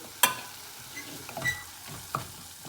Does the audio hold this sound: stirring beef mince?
yes